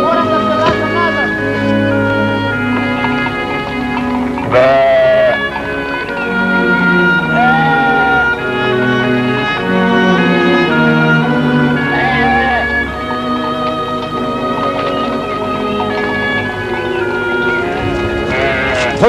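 A flock of sheep, seized from Turkish shepherds, bleats again and again in loud, overlapping cries close by, with faint voices underneath.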